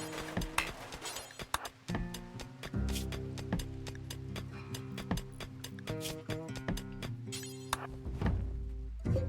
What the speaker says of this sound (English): that was a lot of mining